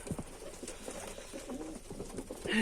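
Pigeons coo repeatedly inside a loft housing newly hatched young birds and eggs, soft overlapping calls close by, with a rustle and a louder burst at the end.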